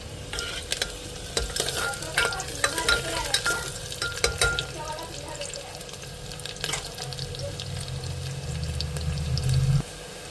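Chili and onion frying in a pan with bottle gourd and Maggi masala in a home kitchen, heard as a steady, loud sizzle with stirring and scraping throughout and a brief rise in hiss near the end.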